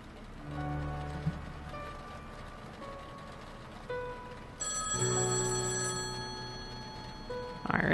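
In The Samaritan Paradox video game, a telephone rings in a clear, repeated electronic tone alone against faint ambient noise, with a louder burst of ringing partway through.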